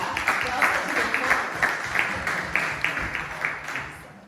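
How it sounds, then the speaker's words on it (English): Audience applause at a film Q&A in Barcelona, a fairly steady wash of clapping with repeated sharp peaks, moderately loud and close, with no talk over it. "Wow, round of applause, huh?"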